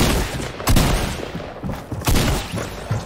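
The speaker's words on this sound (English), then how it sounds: "I missed every single shot." Gunfire in Fortnite crackles in rapid bursts, several loud volleys close together over a few seconds with no talking.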